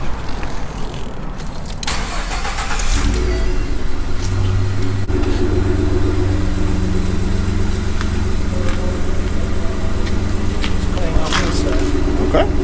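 A Ford F150 engine cranks and catches, then settles into a loud steady idle that keeps running throughout, with people talking over it.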